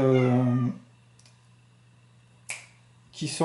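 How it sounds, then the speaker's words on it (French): A drawn-out meow sounds near the start, then near silence broken by a couple of short sharp noises and another brief cry. "Vous avez entendu le chat qui miaule"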